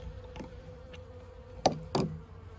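Faint, steady buzzing of bees robbing out old honey frames in a beekeeping shed, with a few soft wooden knocks and two louder thumps near the end.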